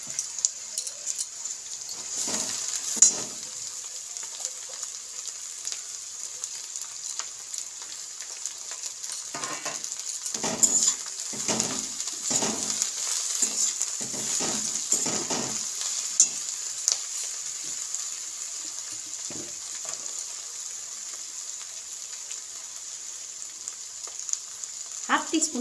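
Taro leaves fry in a pan with a steady sizzle. Repeated scraping bursts from stirring come and go over it, close and alone with no talk.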